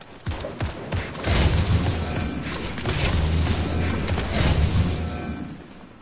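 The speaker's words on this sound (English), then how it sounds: "they added a decoy grenade." A decoy grenade in the Fortnite video game, giving off a dense fake fusillade of rapid gunfire bursts with booming low thuds, loud and continuous for several seconds.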